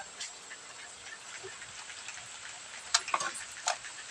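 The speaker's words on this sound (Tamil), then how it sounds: "இது நல்ல மழை, வெளியில நல்ல 2 நாளாக மழை." Rain falls outside during a two-day spell of rain, a faint steady patter with a few louder nearby drips and ticks, heard from indoors with no one talking.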